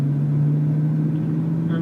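A BMW M3 accelerates out of a corner on a driving-school track, its engine a steady, loud drone heard from inside the car with no speech over it.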